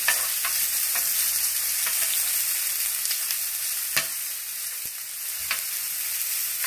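Duck breast (magret) searing in a frying pan gives a close, steady hiss and crackle of sizzling fat, with occasional pops and utensil stirring sounds throughout.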